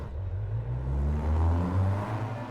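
Race cars in the iRacing sim launching at a standing race start, engines droning and revving upward together in a steady mid-low roar that swells and eases slightly.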